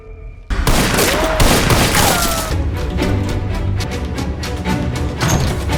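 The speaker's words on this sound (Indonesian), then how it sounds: "Lao Tuo menembak." Gunfire in a film action scene, a dense fusillade of loud shots and booming impacts bursting in abruptly and rattling on continuously, with crashes mixed in and no clear speech.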